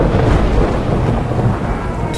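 Steady loud rain with low rumbling thunder rolling beneath it, a dense continuous wash of sound throughout, with a gusty windy edge and no voices.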